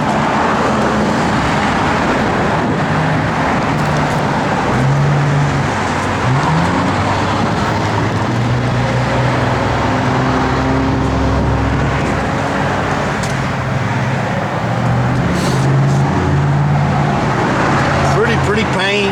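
A Chevrolet Nova's engine runs with a steady, loud, deep rumble that holds close and unbroken throughout, with people talking over it.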